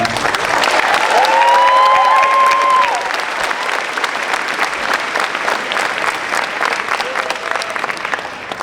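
A convention crowd at a voice actors Q&A claps steadily and loudly throughout, with some voices and shouts rising over the applause.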